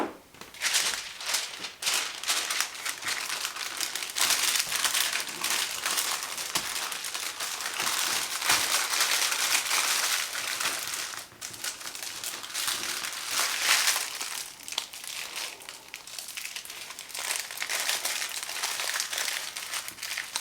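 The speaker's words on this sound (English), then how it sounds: "I've got some wax paper here." Wax paper crinkles and rustles steadily as a bone marrow compound butter is rolled up inside it, close and fairly quiet, with bursts of crumpling throughout and no speech.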